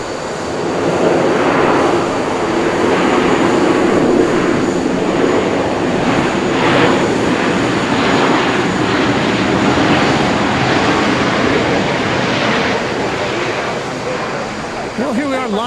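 A Boeing 737-800 jet airliner on Flight 3454 from Houston Intercontinental arrives at Dallas Love Field, its engines a steady, loud, broad roar sustained throughout, near and continuous.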